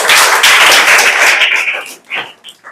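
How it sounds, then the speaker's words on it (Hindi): Loud applause from a classroom of students after a correct answer in a history quiz, dense clapping for about two seconds before thinning out into a few scattered claps. "और जोरदार ताली बजा दीजिए।"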